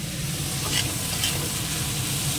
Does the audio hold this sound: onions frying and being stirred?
yes